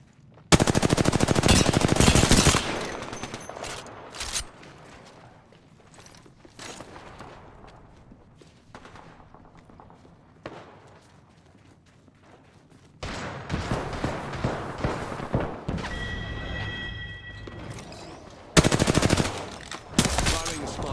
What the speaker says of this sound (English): Firing a smart bullet.